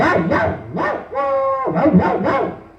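A stage performer dressed as a dog in a Tamil drama imitates barking, a run of rhythmic yapping woofs broken by a drawn-out whining howl, loud and close.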